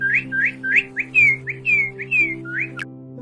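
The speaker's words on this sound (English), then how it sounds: "Cardinal." A cardinal calls in a rapid series of about ten clear, down-slurred whistles, loud and close, over steady background music.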